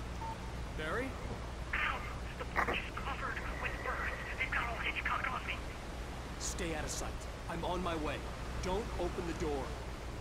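A telephone rings in Alan Wake Remastered on PS5. The repeated ringing tones come in bursts through the middle of the clip, under someone talking and a steady game background.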